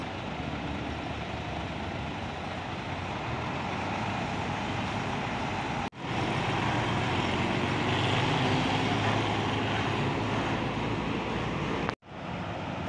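Bus engine idling and rumbling steadily at Surabaya's Purabaya bus terminal, an Akas NR coach on the Surabaya–Madura route, loud and continuous with broadband noise and two brief cuts.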